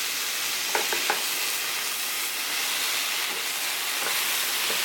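Sliced mushrooms sauté in a pan with a constant loud sizzle, broken early by a few sharp scrapes and clicks from stirring and by a couple of later taps.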